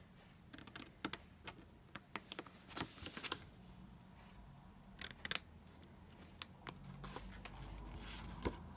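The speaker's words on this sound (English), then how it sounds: "So the whole of this section here I'm going to cut out." Scissors cut corner squares out of paper for a handmade gift book, with scattered close snips and paper rustles in irregular clusters, quiet and alone.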